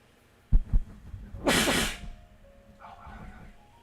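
A single sneeze bursts out close and loud, with a breathy intake just before it and quiet room noise afterward.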